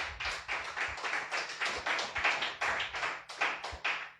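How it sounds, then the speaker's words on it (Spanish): A church congregation claps to the Lord in steady rhythmic unison, a dense run of quick, even claps at moderate loudness throughout, with no talking. "A su nombre, dele fuerte aplausos al Señor"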